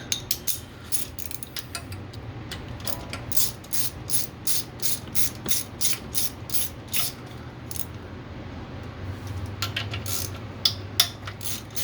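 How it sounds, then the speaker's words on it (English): A hand ratchet loosens a bolt on a 6.4 HEMI engine installed in a 1970 Duster, working from underneath to drop the windage tray: close, crisp bursts of rapid clicking repeat in a steady rhythm of short strokes. "we're just gonna get that bolt out"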